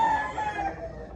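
A rooster at a chicken expo in Consolacion, Cebu gives one short crow that fades off, moderately loud and heard alone.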